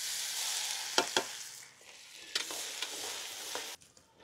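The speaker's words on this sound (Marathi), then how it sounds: "आपला लसूण चांगला बऱ्यापैकी फ्राय झालेला आहे।" Chopped garlic frying in hot oil with cumin, mustard seeds and curry leaves for a dhaba-style garlic methi, a steady crackling sizzle with a few sharp spoon scrapes against the pan, close and alone.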